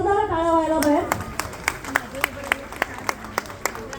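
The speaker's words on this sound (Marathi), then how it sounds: "त्यांच्यासाठी एकदा जोरदार टाळ्या व्हायला पाहिजे" At a Women's Day function, a voice is heard briefly at the start, then rhythmic clapping follows at a steady beat, sounding like a few hands rather than a large crowd.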